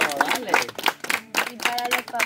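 A crowd claps and applauds for a six-year-old child performer, the broadband clapping rising and falling in bursts while voices talk and call out loudly over it throughout.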